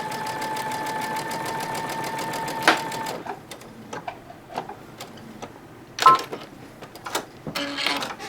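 A sewing machine stitching a quilt block seam, a steady rapid needle chatter with a hum that stops after about three seconds, followed by scattered soft clicks and handling sounds.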